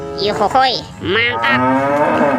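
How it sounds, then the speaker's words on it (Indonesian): A toy cow gives two drawn-out electronic moos, loud and close, with a cheerful voice exclaiming over them. "Ini ada sapi mo."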